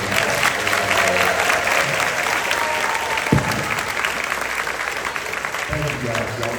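A dense, loud crowd applauds graduating students at a middle school 8th grade graduation ceremony, steady clapping throughout with crowd voices mixed in and a few sharper claps near the end.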